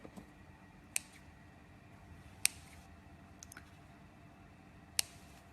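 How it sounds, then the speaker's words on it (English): Scissors snip sugar paste while a sugar flower is shaped by hand, producing a few sharp, isolated clicks spaced a second or two apart over a quiet background. "if you want to, you can actually use scissors and you can snip."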